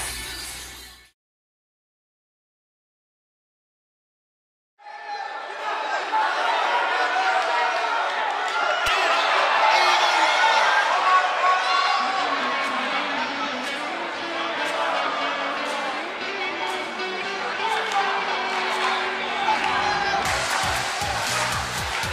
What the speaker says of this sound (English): Sounds like this crowd is ready for this fatal four-way match to get underway.